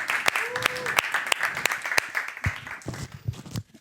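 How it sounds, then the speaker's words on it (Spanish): Scattered applause from a seminar audience in Tucumán, with sharp individual claps ringing out at irregular intervals amid room noise and some voices, thinning out toward the end. "Un aplauso para ustedes."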